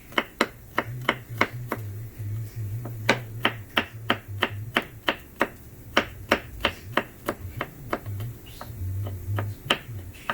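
A knife chops peeled garlic finely on a board in a steady run of crisp, evenly spaced taps, close and clear, with a low hum beneath.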